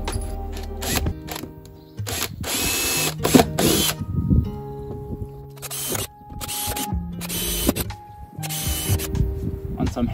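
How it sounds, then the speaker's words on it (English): A power drill bores 4mm rivet holes for a boat storage port in short, loud whirring bursts that start and stop repeatedly, with pauses between. "I'm going to now drill a 4mm hole through each of these"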